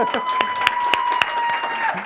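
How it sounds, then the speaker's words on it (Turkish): Studio audience on a Turkish talk show claps with sharp, distinct hand claps over a held musical tone, with talking woven through the brief applause. "kocaman bir alkış"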